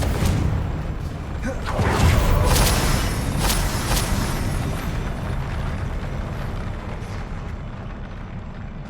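The Confringo spell in the video game Hogwarts Legacy sets off a loud, booming fiery explosion. A heavy roar swells near the start, then rumbles and slowly fades while crackling bursts sound on top.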